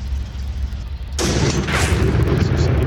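Tank main gun firing in the WWII tank game Tank Warfare: Tunisia 43 at El Guettar, a single heavy boom erupting after a low engine rumble and leaving a long rolling decay.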